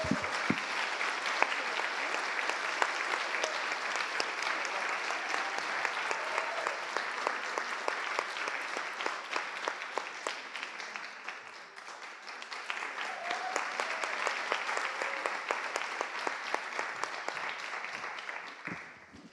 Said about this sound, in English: So please give them a massive round of applause and do come up.